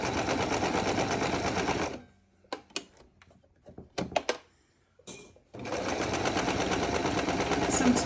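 A sewing machine stitches a scrappy quilt table mat. A steady, rapid whirring run pauses for a few seconds of scattered clicks and taps, then the machine whirs on again.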